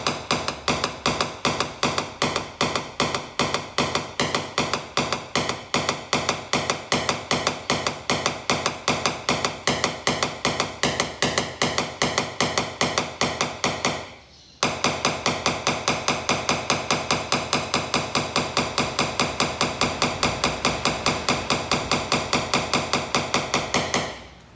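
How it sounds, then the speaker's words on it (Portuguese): Quick, even hammer taps work a dent in a car's side panel during paintless dent repair, a fast metallic rhythm of ringing strikes that breaks off once and then resumes close up. "Eu tô batendo pra ela espalhar, não pra ela baixar."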